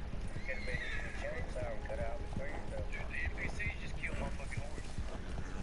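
Horse hooves clip-clopping with whinnies in the Red Dead Online video game, a steady galloping rhythm close up, mixed with game sound and voices talking over it.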